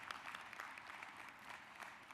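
Applause at the NAACP annual convention, a soft, distant wash of many hands clapping steadily throughout without voices.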